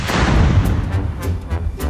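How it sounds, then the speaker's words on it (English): A tractor blown up as a staged explosion in a Circle C Tractor commercial: a loud, close, booming blast with a heavy low rumble that rolls on and decays over about two seconds. "Blow it up."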